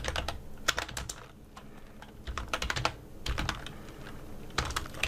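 Computer keyboard typing in quick irregular bursts with short pauses, close and fairly quiet, no voices.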